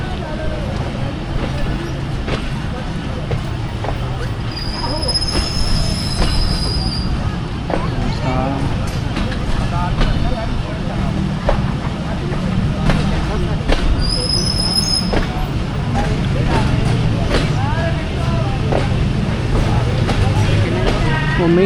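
The Awam Express, a passenger train running from Rawalpindi to Lahore, rumbles and rattles steadily from inside a carriage, with two high wheel squeals along the way and voices murmuring over it.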